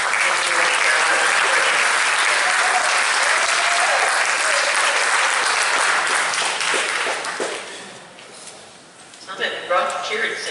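An audience at a fashion show applauds and cheers loudly and continuously for about seven seconds. The sound then fades as a voice starts speaking over it.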